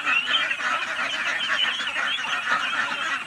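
A flock of ducks on a farm honking and quacking in a dense, continuous chorus, many birds calling over one another close by.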